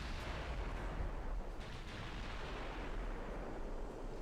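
Heavy warship main gun salvos rumble in the naval battle game Ultimate Admiral: Dreadnoughts, a continuous deep booming roar with overlapping blasts and no voices.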